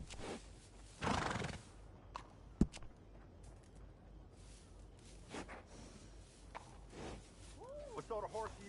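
A horse in Red Dead Redemption 2 whinnies with a rising, wavering call near the end, after muffled talk and a few thumps and hoof clops in the background.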